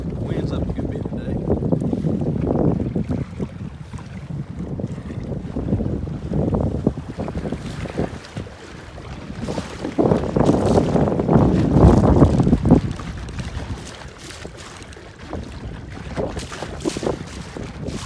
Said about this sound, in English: We're going against the wind. The wind's up a good bit today.